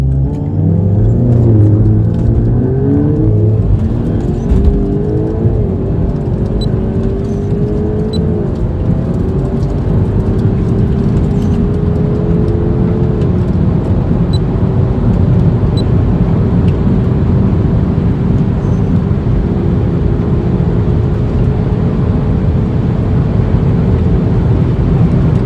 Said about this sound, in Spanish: Aquí estáis viendo la aceleración de los dos coches.